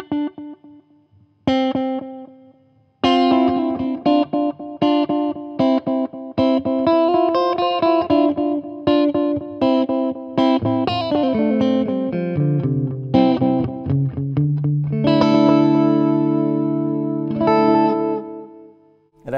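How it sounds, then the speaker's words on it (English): Electric guitar through a TC Electronic Flashback delay pedal set to its analog delay, with a subtle modulated, vintage-voiced echo. Plucked notes and chords repeat and trail off, played alone with no talking. "First is the Flashback from TC Electronic. It has a basic analog sound right out of the box."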